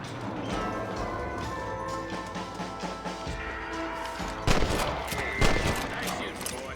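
Gunfire in the Western game Red Dead Redemption: a few sharp shots crack near the end over a busy bed of orchestral music and ambient noise, with voices talking.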